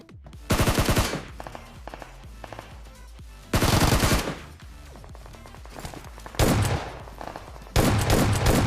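Automatic gunfire in PUBG around Pochinki comes in four loud, close bursts of rapid shots, separated by quieter gaps with fainter background shooting.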